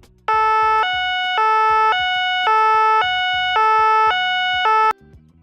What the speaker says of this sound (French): Les véhicules d'intérêt général prioritaire ont des sirènes à 2 temps.